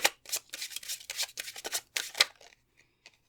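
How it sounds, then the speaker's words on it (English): A deck of tarot cards is shuffled by hand at close range, crisp riffling bursts coming in quick irregular runs before tapering into a few soft flicks and silence. "Let's shuffle that one more time to be sure."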